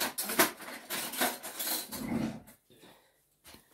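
A spoon clinks and scrapes against a saucepan while sugar is handled, a few close metallic taps and rattles in quick succession, fading to near silence at the end.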